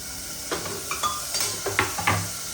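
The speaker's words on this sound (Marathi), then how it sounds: "आता आपल्याला परतून घ्यायचं आहे जोपर्यंत टोमॅटो छान स्मॅश होत नाही" A spoon scrapes and clinks in a pan as onion and tomato are sautéed, with a few distinct metallic knocks over a soft background sizzle, up close.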